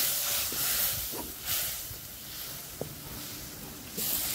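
Okra goes into a pan of fish curry with mustard paste, giving a broad steady hiss and sizzle at close range, punctuated by a few light taps.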